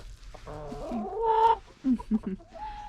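Chickens clucking inside a snowy winter coop, a few close, soft bursts of clucks and short calls standing out against a quiet background.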